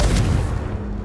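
A Confringo spell explosion in Hogwarts Legacy: a single loud, deep boom that hits at once and then fades into a short rumbling tail.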